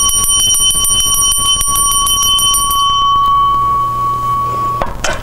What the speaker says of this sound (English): Let's go ahead and ring the bell for a little bit.